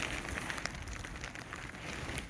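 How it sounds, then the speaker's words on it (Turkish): Rain patters steadily on leaves and ground in a wet forest after snowfall during mushroom foraging, a dense, even hiss of drops with a few louder taps close by. "Aynı zamanda yağmur da başladı."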